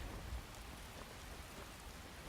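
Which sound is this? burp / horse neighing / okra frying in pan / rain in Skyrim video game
rain in Skyrim video game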